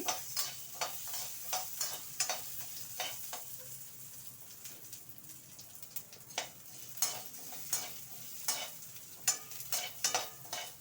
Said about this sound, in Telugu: ఆయిల్ వేడెక్కిన తర్వాత మినప్పప్పు వేస్తాను మినప్పప్పు వేగుతూ ఉంటుంది